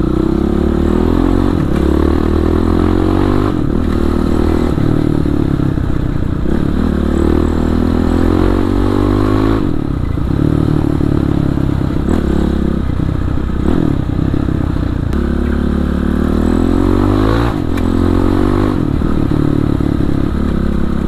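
A Kawasaki KLX supermoto engine bored up to 450cc revs loudly and continuously up close in Bandung city streets, pitch rising and falling with repeated throttle blips, plus some rattling clatter.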